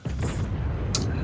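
A naval gun firing from a Japanese destroyer in a video game: a single heavy, booming blast with a rumbling tail, loud and close, without talk over it.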